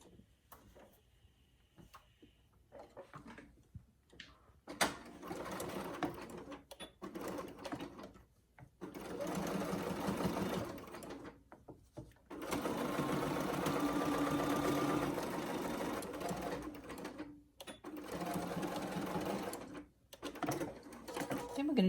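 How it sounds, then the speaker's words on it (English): A sewing machine runs in bursts of rapid mechanical stitching down a fabric fold for a face mask, stopping and starting between quieter pauses with faint handling noises. "we're back at the sewing machine, and I just need to make a stitch all the way down"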